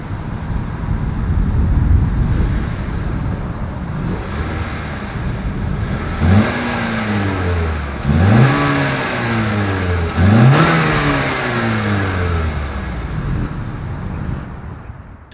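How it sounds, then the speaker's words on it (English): A 2021 Honda Accord's exhaust idles with a deep rumble, then revs sharply three times in quick rising bursts, each falling back to idle, close and loud. "As always, here is that exhaust clip."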